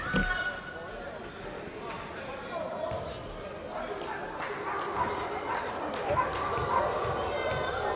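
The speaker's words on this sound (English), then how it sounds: "the Hamilton Green Mile has turned into a dog pound as they start barking away." A high school boys' basketball crowd in a gym, with the student section barking like dogs amid steady crowd noise, ball bounces and shoe squeaks.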